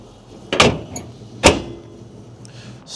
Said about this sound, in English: Show you this hood closing up